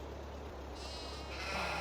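A sheep in Farming Simulator 22 gives a faint, distant bleat that is half lost under a loud steady rumble of machinery, with no voices.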